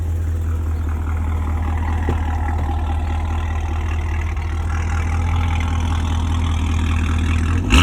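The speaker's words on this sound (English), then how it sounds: "Could you hop in and give me a quick rev?" Modified 2022 Chevrolet Camaro SS 1LE V8 running steadily, a deep continuous low-pitched engine drone held near the mic for several seconds, with a sharper surge right at the end.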